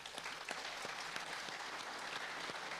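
Audience applause at a Python conference keynote: faint, fairly sparse clapping with individual hand claps standing out now and then, continuing evenly throughout.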